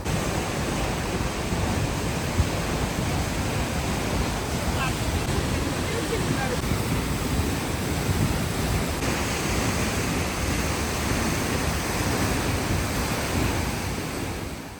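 A river flows beside a hiking trail in Iceland, a steady, loud rushing of water that runs unbroken from start to finish, close to the listener.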